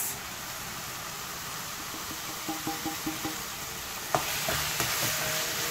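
Masalas for Punjabi chole fry and sizzle in a pan with a steady hiss while a spoon stirs and scrapes in a few light rhythmic strokes, then one sharper knock and a louder sizzle.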